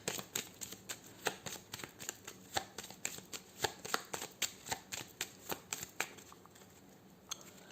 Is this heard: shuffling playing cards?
yes